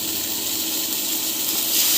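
Brinjal (eggplant) sautéing in a pan with oil and asafoetida, a steady close sizzling hiss that holds constant and swells slightly near the end, with no voices.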